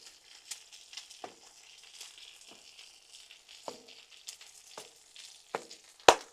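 Butter-toasted burger buns sizzle on a Blackstone flat-top griddle, a soft steady frying hiss punctuated by occasional sharper crackles and pops, close and without talk.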